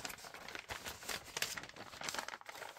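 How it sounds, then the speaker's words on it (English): Thin Tomoe River 52gsm notebook paper crinkles and rustles continuously at close range, a soft crackling texture with small bursts of louder crumpling. "I love the crinkly sound and feel of this used, paper."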